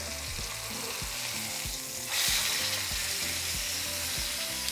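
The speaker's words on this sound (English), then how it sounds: "we're going to throw in our chuck roast. So we're going to sear it for 3 to 4 minutes on each side" Beef chuck roast sears in hot oil with a steady, crackling sizzle, close and continuous, with soft thumps from stirring underneath and a brighter surge of spitting about halfway through.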